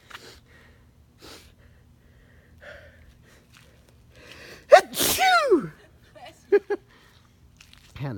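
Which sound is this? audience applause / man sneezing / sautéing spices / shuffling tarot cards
man sneezing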